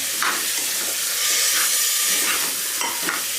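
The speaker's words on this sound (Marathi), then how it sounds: "बटाटा, फ्लॉवर, आपण ते सगळं परतून घेऊया।" Potato, cauliflower and peas sizzle and spit in hot oil while being sautéed for Maharashtrian masala bhat, a constant frying hiss broken by a few sharper scraping stirs, close and clear without speech.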